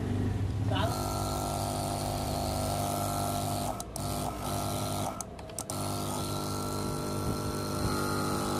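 A repaired AC-DC gas compressor motor runs steadily nearby with a constant mechanical drone and faint rattle, with two brief dips in the hum partway through.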